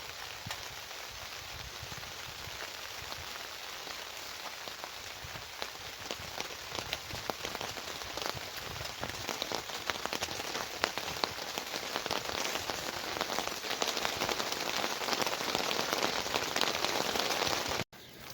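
Steady rain falls on a surface at a campsite with tents under a canopy, a dense, even patter that holds for the whole stretch with no voices.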